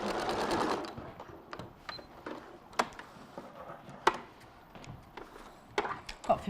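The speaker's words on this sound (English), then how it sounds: "So you're sewing again over the top." A sewing machine stitches over the top of a modern hexies quilt: a burst of fast mechanical chatter at first, then quieter scattered clicks and knocks, close and fairly faint.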